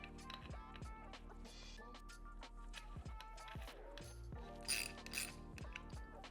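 Ratcheting torque wrench clicks in quick repeated bursts while tightening bolts on the bottom end of a KTM/Husqvarna/GASGAS 250/350 dirt bike engine, set near with light mechanical clatter and no talk.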